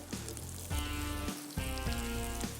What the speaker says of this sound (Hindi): ऊपर से ब्रेड क्रम्ब हम फ्राई कर रहे हैं